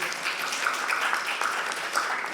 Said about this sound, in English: it deserves another applause